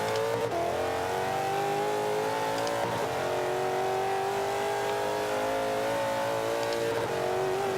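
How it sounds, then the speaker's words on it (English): A Mitsubishi Evo engine in Forza 5 revs hard toward the red line, a loud sustained racing drone with rising and falling pitch and no talk. "if I take your Evo and I rev it up to the red line"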